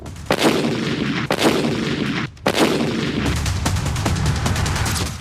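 Several sharp, loud gunshots crack one after another at irregular intervals during a gold shop robbery in Vijayapura, followed by a rapid burst of quicker shots near the end.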